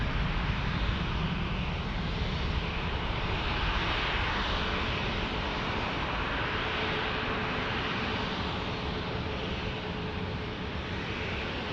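A Delta Airlines airliner climbing steeply after takeoff from San Diego airport, a steady, loud broadband engine roar that holds evenly for about twelve seconds with no voices.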